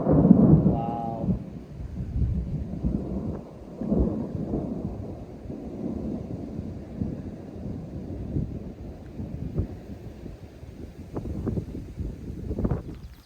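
Steady rain falls with deep rolling thunder through a sudden turn of weather in a garden, with wind buffeting the microphone at the start and scattered louder drops and rumbles throughout.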